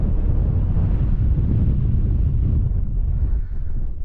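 Strong wind buffets the microphone on the Buttermere fells at a lunch stop, a loud, continuous low rumble that eases slightly near the end.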